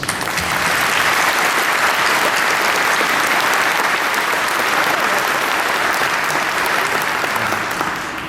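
A large audience at the CHEST 2012 medical society meeting in Atlanta applauds new initiates with loud, dense, unbroken clapping that holds steady for eight seconds.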